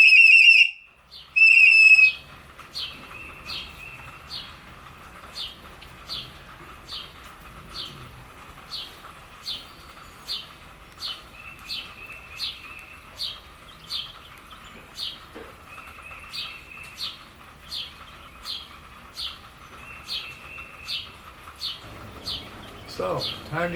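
A ceramic water whistle blown in a steady series of short warbling chirps, bright and close, repeated rhythmically after a couple of louder opening trills.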